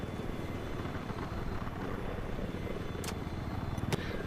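An attack helicopter flies nearby in Battlefield 4, a steady loud rotor drone throughout with two sharp clicks near the end.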